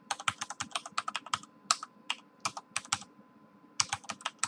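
Rapid typing on a computer keyboard: crisp, close key clicks in quick uneven bursts with brief pauses between words, loud and alone without any speech.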